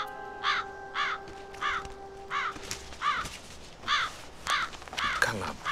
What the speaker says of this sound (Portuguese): Cala a boca, pássaro chato.